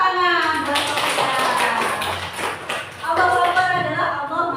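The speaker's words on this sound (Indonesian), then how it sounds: "Tepuk tangan buat Sofia." Children in a classroom clap for Sofia with quick, dense, rapid claps throughout, loud and close, while an adult voice talks over them.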